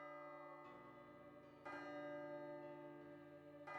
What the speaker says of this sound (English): the evening bells tolled that the end shall now begin